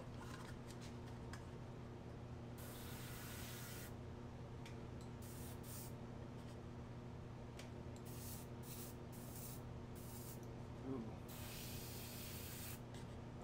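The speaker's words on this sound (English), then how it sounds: "I don't know about spraying this." Black 2.0 paint is sprayed up close in a series of hissing bursts of uneven length, some brief and some lasting over a second, separated by pauses over a low steady background hum.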